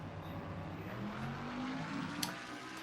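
Race cars in a NASCAR-style racing video game drag racing side by side down pit road, a steady engine drone with a rising pitched whine as they accelerate, fairly faint and continuous, ending in a brief sharp click.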